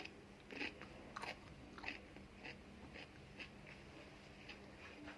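Crispy homemade pickled cucumber being bitten and chewed close up, giving a quiet series of sharp, wet crunches at a steady pace, about eight or nine in all, with no voices.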